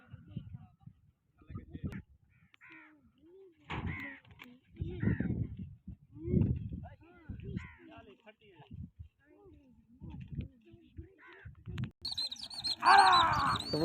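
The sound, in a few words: pigeons flying and calling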